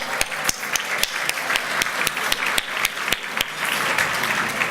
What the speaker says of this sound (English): can we have one more round of applause for those sponsors today?